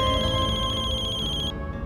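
A phone rings with a steady electronic ringtone tone, loud and close, continuing for nearly two seconds before cutting off in a hospital-bound family drama scene.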